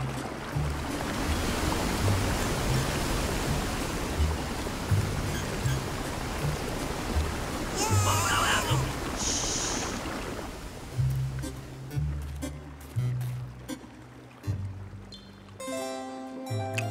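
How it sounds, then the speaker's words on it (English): A noisy cartoon waterfall roars as a steady broadband rush of falling water, later joined by brief effects and low musical tones, with no talking. "The waterfall is so noisy."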